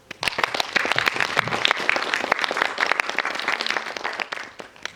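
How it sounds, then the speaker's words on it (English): An audience at a symposium opening ceremony applauds the event sponsor with dense, steady clapping that lasts about five seconds and then tapers off. "I want to recognize the sponsor of the symposium with a big applause,"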